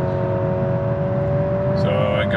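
A 2023 Honda CR-V Hybrid in sport mode accelerates, its engine hum rising in a steady whir from inside the cabin over a short stretch.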